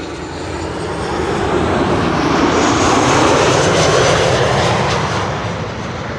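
Loud, close roar of a KLM airliner arriving from Copenhagen at Amsterdam Schiphol on runway 06, the engine noise swelling and peaking midway as it passes, then easing slightly, with no voices.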